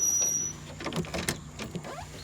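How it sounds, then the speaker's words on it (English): A manual crank window on a 1999 Jeep Wrangler is rolled down, giving a close, steady grinding and squeaking with a few sharper creaks as the glass moves. "You got your roll down windows."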